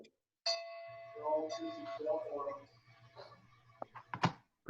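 A bell dings three times at the opening of a club meeting, with bright ringing tones that ring out and decay, followed by people talking and a couple of sharp clangs near the end.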